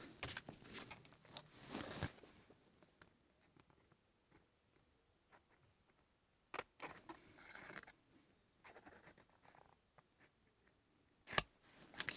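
Scissors cutting a paper card for a round card craft, intermittent snips and rustles of paper at close range, with a few sharper cuts and quiet gaps between, no speech.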